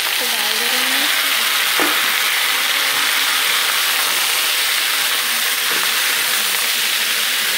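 Small peeled and washed pieces of bottle gourd tipped into a hot pan, setting off loud, steady frying and sizzling with a few stirring knocks, close up.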